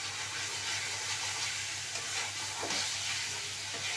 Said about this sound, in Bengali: পেঁয়াজটা দিয়ে নিলাম। এবার ভালো করে নাড়িয়ে নেব।